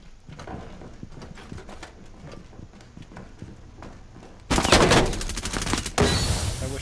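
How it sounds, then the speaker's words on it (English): Machine gun fire in the Rainbow Six Siege video game, a rapid rattle of close shots that turns into a much louder, dense sustained burst near the end, with no talking. "Machine gun set up."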